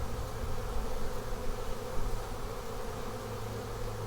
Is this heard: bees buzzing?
yes